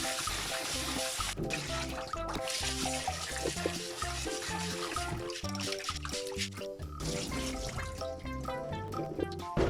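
Tsugaru Roman rice from Aomori is washed by hand in water, giving quiet repeated sloshing, trickling and dripping sounds with a faint tap running, and no one speaking.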